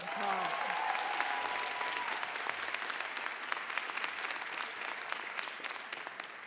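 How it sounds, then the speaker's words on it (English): Steady applause from a crowd at the Rutgers School of Social Work graduation, dense even clapping sustained for several seconds with a brief voice at the start, gradually tapering. "Let's have another round of applause for that."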